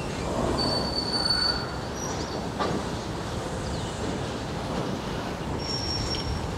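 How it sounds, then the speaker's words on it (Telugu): A long freight train shunts slowly through a railway yard near Guntur, its wheels squealing in high drawn-out tones over a continuous heavy rumble, heard from close by. "షంటింగ్ ఎక్కువ జరుగుతూ ఉంటుంది ఇక్కడ"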